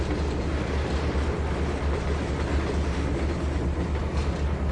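A train in Trainz 2022 rolls along with a continuous heavy rumble and rhythmic clickety-clack of wheels on track, steady and fairly loud throughout.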